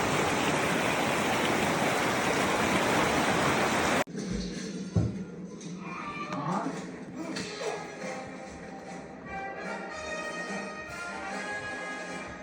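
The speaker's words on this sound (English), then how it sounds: "Checking out the creek." A creek flowing in Bighorn National Forest, a loud steady rush of water that abruptly gives way to a softer, closer babble with scattered splashes and trickles continuing throughout.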